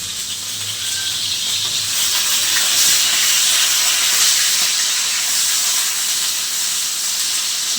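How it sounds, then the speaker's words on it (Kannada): Tomatoes fry in oil in a pan, giving a steady, loud hiss that carries evenly throughout without talk. "ಟೊಮೊಟೊ ಫ್ರೈ ಆಗ್ತಾ ಇದ್ದಾವೆ."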